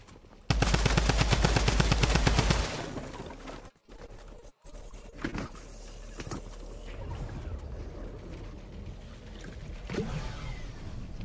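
A mythic drum gun fires in Fortnite in one loud, rapid automatic burst lasting about two seconds, followed by a brief dropout and then quieter scattered game sounds and faint background noise.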